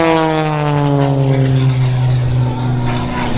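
A propeller airplane performing at the Wings Over Wayne air show roars close by, its engine tone sliding steadily downward as it passes, loud and continuous.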